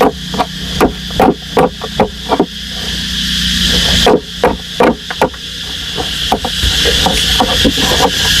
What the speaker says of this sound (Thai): เราตอกจับมัน